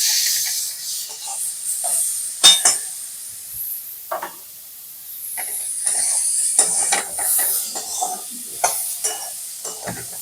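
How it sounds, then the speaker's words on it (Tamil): Boiled chana dal tipped into hot oil seasoned with asafoetida for sundal, giving a steady close sizzle broken by scattered stirring clicks and scrapes of a spoon against the pan. "இந்த எண்ணெயிலேயே இந்த பெருங்காய பொடி போட்டுட்டு இந்த வடித்து வச்ச கடலப்பருப்பை அதில் போட வேண்டியதுதான்"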